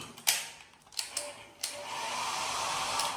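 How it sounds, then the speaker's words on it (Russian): An ordinary hotel hair dryer clicks and rattles as it is handled, then switches on and blows with a steady, airy whoosh that holds close and loud to the end. "у нас самый обычный фен"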